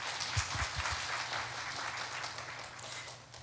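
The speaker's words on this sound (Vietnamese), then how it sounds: "Chúng ta vỗ tay ngợi khen Chúa chúng ta." A church congregation applauds in praise during a sermon, the clapping soft and fairly distant, spread evenly through the room with a few low thumps early on.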